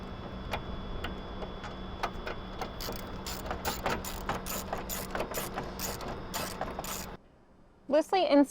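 Ratchet tightening a screw and nut on the coolant reservoir of a 2011-2016 Chevy/GMC Duramax LML 6.6L, steady rapid clicking close by for several seconds, then stopping before a brief voice.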